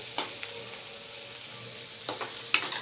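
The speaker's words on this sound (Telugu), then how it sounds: "మీడియం సైజు ఒక ఉల్లిపాయ వేసుకోవాలి అలాగే ఒక రెండు నిమిషాలు అయితే మనం వేయించుకోవాలి" Chopped onion and spices sizzle steadily in a hot pan for mint rice, a soft continuous frying hiss heard close up, with a few brief louder bursts as the contents are stirred.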